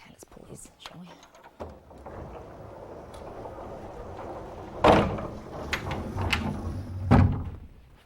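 A door is pulled shut with a couple of firm thuds, one at the midpoint and another near the end, amid faint rustling and quiet voices.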